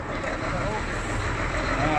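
Several Harley-Davidson motorcycles idle and rumble together on a Friday morning ride near Malham Dam in Riyadh, a loud, steady engine drone heard close by with voices mixed in.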